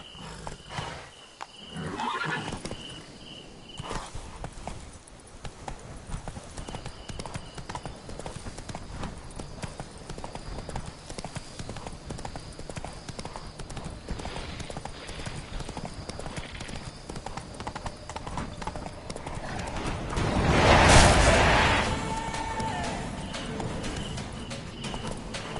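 Roach, a horse in The Witcher 3, gallops with steady rhythmic hoofbeats throughout, with a louder whinny or snort burst near the end, close and continuous.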